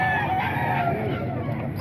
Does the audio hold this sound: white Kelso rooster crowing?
yes